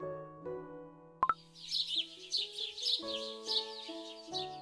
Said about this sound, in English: Hello, little birds. Come for your morning berries again?